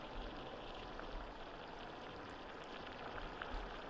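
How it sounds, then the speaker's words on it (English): Acid rain falls in a video game as a faint, steady hiss of drops pattering on surfaces, continuous and soft throughout with no voices over it. "Acid rain."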